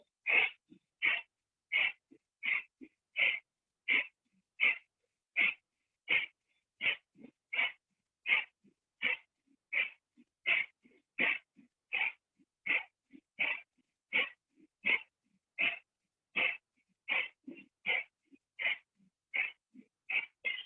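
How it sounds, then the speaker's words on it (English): Rapid, forceful breaths of fire in a yoga pranayama practice, sharp rhythmic nasal exhales repeating evenly about once every three-quarters of a second, close and clear with no talking. "Try to make your breath of fire more powerful."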